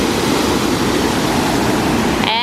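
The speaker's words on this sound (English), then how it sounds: "the waterfall down here" A waterfall near a lake and bridge pours in a loud, steady broadband rush, constant and close with no talking.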